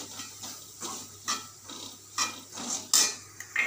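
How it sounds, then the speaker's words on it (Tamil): Chicken with spices is stirred in a pan, with repeated metal spoon scrapes and clinks against the cookware at an uneven rhythm, close and fairly crisp, over only a faint sizzle and no talking. "இப்போ வந்து நல்லா வதக்கிட்டு சிக்கனை போட்டு வதக்கணும்."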